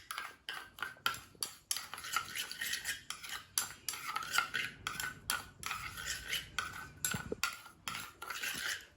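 Spoon stirring a gritty sugar and lemon face scrub in a bowl, with quick repeated scraping and clinking strokes, close and fairly quiet, with no talking.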